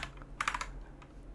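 A quick burst of keyboard typing, several sharp clicks clustered close together, then a couple of fainter taps, heard up close over a low steady hum.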